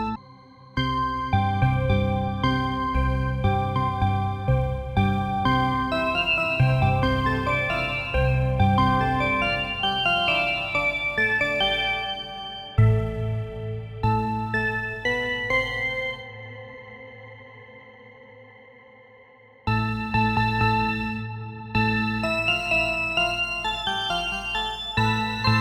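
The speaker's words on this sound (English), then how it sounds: "we get a short sound with a bright and sharp attack" Future-style organ preset in the Vital synth with a short, bright, sharp attack, playing dense chords and melodic phrases that pause briefly before resuming, loud and heavily layered with effects.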